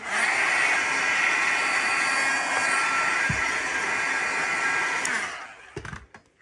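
A heat tool blows a loud, steady roar while warming embossing powder on fusible webbing, then cuts off abruptly near the end, followed by a few brief handling knocks.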